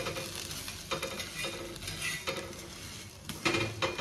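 Bread and egg toasting in a hot pan: a steady, soft sizzle runs throughout, with occasional stirring scrapes and light clinks of a utensil against the pan, close by and with no talking.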